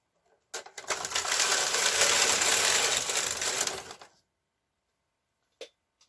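Knitting machine carriage pushed once across a row of a bulky knit coat panel, a steady broad whirring rasp of about three and a half seconds, close and fairly loud, followed by a couple of faint clicks.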